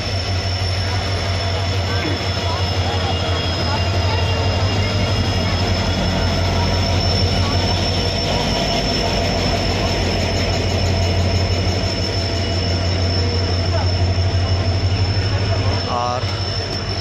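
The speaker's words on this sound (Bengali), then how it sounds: "সবে প্ল্যাটফর্মে ট্রেন দিল" The 12834 Howrah–Ahmedabad SF Express pulls onto a platform at Howrah station, a loud, continuous rumble of rolling carriages with a brief wheel squeal near the end.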